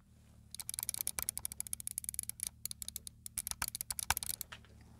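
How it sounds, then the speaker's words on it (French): A Logitech G903 computer mouse gives rapid, crisp button clicks, dozens in quick irregular bursts, close and fairly quiet against a soft background hum. "des clics, je vous fais écouter."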